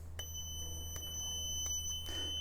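A 7-port open door alarm panel beeps in short, regular pulses on its enabled ports over a steady low electrical hum, close and fairly quiet.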